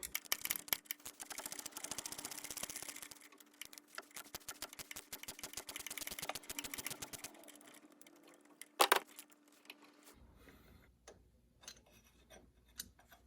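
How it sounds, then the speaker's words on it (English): Ratcheting wrench turning a pulley bolt on a Honda Civic Si: a long run of fast, faint mechanical clicks close by, slowing and thinning out toward the end, with a few scattered louder clicks. "Totally forgot I got a ratcheting wrench here."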